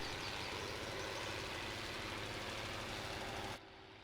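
A small old tractor idles in Farming Simulator 19, its diesel engine chugging in an even, knocking rhythm close up before the level drops abruptly near the end.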